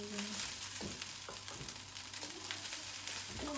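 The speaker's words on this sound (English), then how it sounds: "So now we're gonna add our egg into it and mix the egg up a bit." Egg being stirred into egg fried rice frying in a pan, a steady broadband sizzle with soft scraping stirs at intervals, close and continuous, with no talk.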